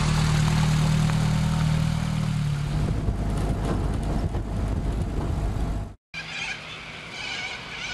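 A 1942 Ford GPA amphibious Jeep with a side valve engine runs steadily close by, a loud rough idle with a low hum that shifts in tone partway through and briefly cuts out near the end.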